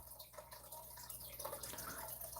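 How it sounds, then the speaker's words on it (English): A home fish tank trickles and drips steadily in the background, a soft continuous watery burble with small splashes, faint and close in a quiet room. "The water sound in the background is my fish tank"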